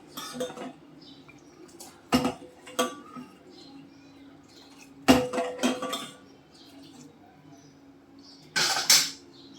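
A spoon scrapes and clinks against a metal pan while stirring semolina kheer with cardamom powder, in a few separate bursts with quiet pauses between.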